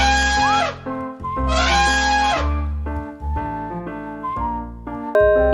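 Two loud, brassy elephant trumpet calls blare out one after the other over a steady musical backing.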